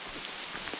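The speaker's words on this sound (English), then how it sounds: "It's rainy, it's kind of chilly, it's wet and muddy." Steady rain falls on a wet, muddy, chilly trail while hiking the Appalachian Trail, a dense even patter with scattered nearer drops and no voices.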